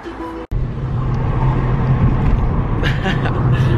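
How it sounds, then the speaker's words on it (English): Steady low rumble of a car's interior while driving, road and engine noise filling the cabin close up after a brief cut at the start, with voices faintly present beneath it. "I'm in car with Ella now"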